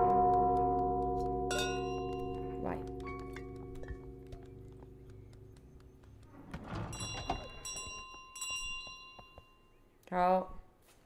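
Bell carried by the goose in Untitled Goose Game rings out in a few bright, sustained dings and clangs, spaced apart, with a person talking in between.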